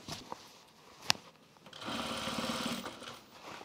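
A sewing machine stitches a pants waistband in one short, steady mechanical whir of about a second, close by, after a brief click and handling noise.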